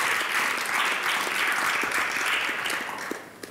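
Studio audience applause on a Moldovan talk show after a marriage proposal segment, a dense steady wash of clapping sustained throughout, easing slightly near the end.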